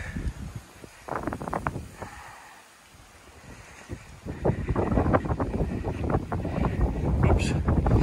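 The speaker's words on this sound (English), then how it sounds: "Windy too, isn't it?" Wind gusts during a snow storm, buffeting the microphone with low rumbling bursts that grow steadier and louder toward the end, with footsteps through deep snow on a walkway and brief talk.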